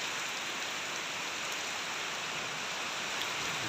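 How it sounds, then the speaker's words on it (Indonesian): Steady rain falling in a village at the first rain of the dry season, a dense, even hiss of drops on surfaces throughout with no voices. "Hujan pertama di musim kemarau ini guys, ini hujan pertama di musim kemarau ini."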